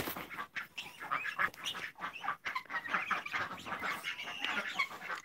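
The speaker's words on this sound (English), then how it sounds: "There's all the quacky quackers." Farm poultry calling close by, a busy overlapping mix of clucks and quacks from chickens and ducks, with a steady continuous chatter and no pauses.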